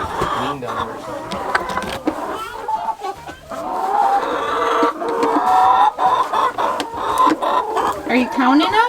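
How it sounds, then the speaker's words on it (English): Farm chickens cluck and squawk close by in repeated bursts, with a rooster crowing faintly among them, while children and an adult talk over the flock. "I think the chickens like the weather."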